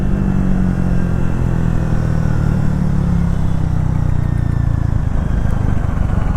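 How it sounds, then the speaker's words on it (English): A Triumph Thruxton 400 motorcycle accelerating in third gear from around 30 km/h, a loud continuous engine drone close up with strong low rumble and rushing wind, no voices. "I open the gas and the bike goes"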